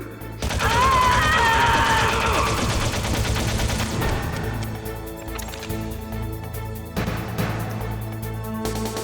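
Rapid gunfire from Metal Gear Solid, dense bursts of shots rattling loudly and continuously at first, then thinning into scattered, separate reports.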